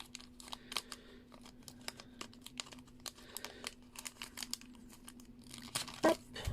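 A package of rubber stamps is torn and crinkled open, producing a run of close, crisp tearing and rustling clicks that grow busier and louder toward the end, over a faint steady hum.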